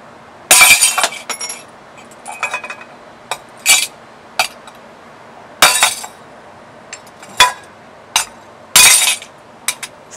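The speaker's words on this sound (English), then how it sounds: "Thin, clear glass shattered under hard knock." Thin clear glass shatters under hammer blows, a series of sharp, loud breaking crashes and tinkling shards spaced irregularly across ten seconds, close and alone.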